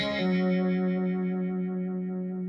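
Guitar through a modulation effects pedal, a sustained distorted chord whose wobbling modulation slows as the pedal's symmetry knob is turned up, close and steady with no talk.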